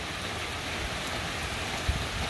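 Steady rain falls in a continuous soft hiss, even and moderately faint, with one brief louder patter near the end.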